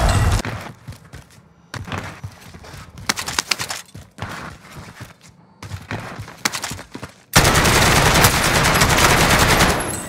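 New gun firing in the video game Warzone on Rebirth Island, rapid bursts of automatic gunfire in several separated volleys, ending in a long, loud, sustained stretch of fire.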